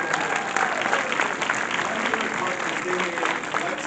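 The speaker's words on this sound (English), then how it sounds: "I gotta say a huge round of applause to every single one of our contestants that were here today" A convention crowd applauds the contestants of a cosplay contest at Fan Expo Cleveland, giving a continuous wash of distant clapping while a voice talks over it.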